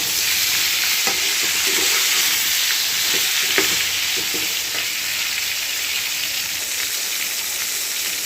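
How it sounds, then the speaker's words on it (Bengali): Pointed gourd (potol) frying in a pan with salt, a steady close sizzle and hiss with occasional stirring scrapes and clinks throughout, no voices. "এর মধ্যে আমি পরিমাণ মতো নুন দিয়ে দেব, যাতে তাড়াতাড়ি পটলটা ভাজা হয়ে যায়।"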